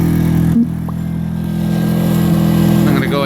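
Powerhorse inverter generator engine running steadily after a cold start, a loud close-up droning hum with a steady pitch and a brief bump near the start.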